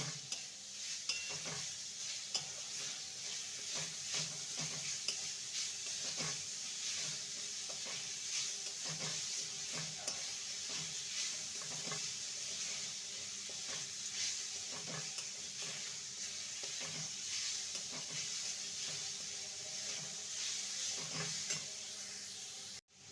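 Fresh tender coconut and sugar being stirred in a hot pan, a constant hiss with repeated rhythmic scrapes of the spatula throughout, close and steady, no voices.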